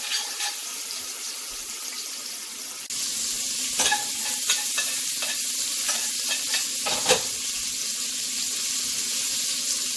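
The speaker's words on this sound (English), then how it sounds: "I'm just going to saute the green beans in the bacon and bacon fat until it's hot" Green beans sautéing in bacon and bacon fat, a constant close sizzle with several stirring scrapes and taps of a utensil against the pan.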